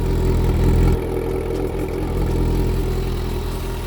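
A stock exhaust on a 2008 Kawasaki Concours 14 motorcycle idles with a loud, close, steady low rumble, easing slightly after the first second and holding an even drone with no voices.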